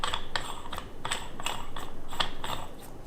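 A flywheel puller threaded down onto an engine crank gives a steady run of fast metallic clicks and ratcheting ticks in a close, even rhythm, with no talk over it.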